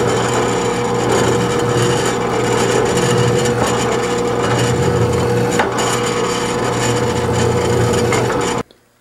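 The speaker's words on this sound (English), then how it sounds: "I'm going to drill that out and tap it." A steel bolt clamped in a vise is drilled out and tapped, a loud, continuous motor whine with grinding bite into metal, holding steady for about nine seconds before cutting off abruptly.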